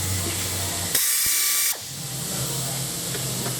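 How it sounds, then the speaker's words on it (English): A Snap-on pneumatic torque air ratchet fires in one short burst, a loud airy whirring buzz lasting under a second, over steady background noise, during work on a Ford Mercury V6. "This is my snap-on torque air ratchet."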